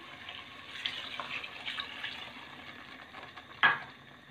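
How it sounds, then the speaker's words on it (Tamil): Water splashes steadily into a pot of lentil curry being cooked, a continuous soft pouring wash with a brief louder splash near the end; no voices. "இப்போ தண்ணியை ஊற்றிப்போம்"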